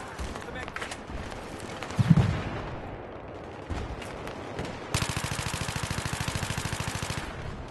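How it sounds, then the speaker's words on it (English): Gunfire in Battlefield 3 at a bridge: scattered shots and a heavy impact early on, then a steady, rapid burst of automatic fire over the last few seconds amid dense battle noise. "We're getting shot at pretty badly."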